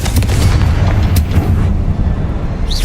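Confringo fire spell blast in Hogwarts Legacy, a loud booming burst at the start rolling into dense rumbling crackle that tails off, with a faint whooshing sweep near the end.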